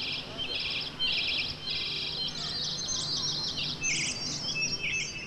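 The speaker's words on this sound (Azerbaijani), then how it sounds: "Bu təbii sükutu isə yalnız bülbüllərin cəhcəhi pozur." Nightingales sing outdoors at a flower festival, giving repeated bright trilling phrases in short bursts, moderately near, over a steady low background hum, with no talk.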